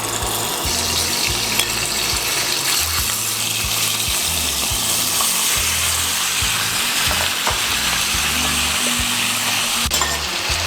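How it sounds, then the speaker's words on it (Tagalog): Chicken frying in a covered pan for 40-clove garlic chicken, giving a steady, loud sizzle throughout with faint clinks and rattles of the lid or pan. "ngayon po ipa-fry na natin ang ating chicken"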